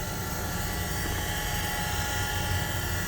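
An Okamoto 618 manual surface grinder's spindle runs with a steady, even, broadband hum and whir, heard close and continuous without any talk.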